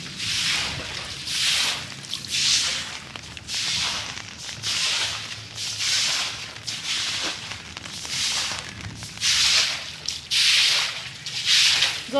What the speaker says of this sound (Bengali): জোরে বৃষ্টি হচ্ছে ভাই